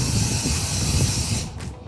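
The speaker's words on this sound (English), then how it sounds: "I like to use cooking spray." Cooking spray spritzed onto a cake pan before baking, a loud close continuous hiss that lasts about a second and a half and then stops.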